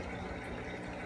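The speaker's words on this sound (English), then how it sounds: "So, sump is running." Sump pump of an eShop RS75 sump on a 20-gallon reef aquarium, a steady close-up wash of running, filling water with a constant low hum throughout.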